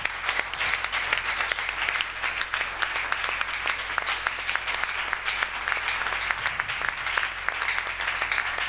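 A church congregation applauding during a worship service, dense steady clapping from many hands throughout, loud and continuous without a break.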